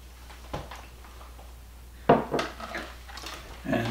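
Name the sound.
mixing apple dessert with sugar in a bowl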